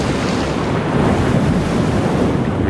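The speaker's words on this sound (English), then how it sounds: "Reefs are very noisy places. For example, waves breaking, parrotfish scraping the coral." Ocean waves break on a coral reef, a loud, steady wash of surf that rumbles and hisses continuously with no pauses, close and alone.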